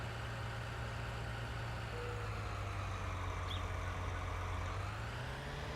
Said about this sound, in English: So quite a good looking tractor and baler combination, this one.